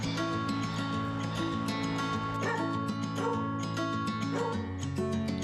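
Dogs at a Taipei animal shelter for elderly and disabled cats and dogs give repeated yips, whimpers and short barks, close and fairly loud, over a steady background hum, with no talking.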